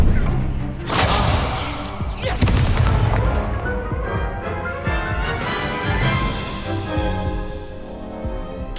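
A fire spell cast in the Hogwarts Legacy video game during a battle in the Azkaban prison, heard as a loud roaring burst of flame with booming impacts and crashing effects that sustain over several seconds amid busy game sound.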